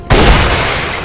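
A single loud, booming gunshot from a headshot in the Rival Fire video game, an abrupt blast that slowly decays without any talking.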